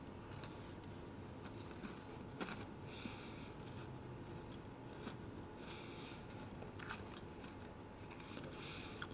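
Someone bites into and chews a cookie alongside strawberry milk, giving faint, close crunching and chewing sounds with occasional sniffs over a low background hum.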